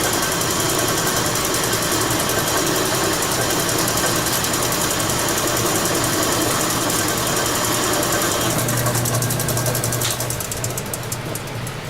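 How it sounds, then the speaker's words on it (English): A small drill press, stuck at high speed and unable to slow down, whirs steadily while drilling through metal, a continuous mechanical grinding and ratcheting hum that changes character near the end as the bit breaks through. "Only downfall with this little drill press, I can't slow it down anymore."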